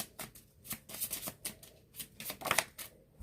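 A deck of love oracle cards is shuffled close by, with quick, crisp riffling slaps in an irregular rapid rhythm, heard alone.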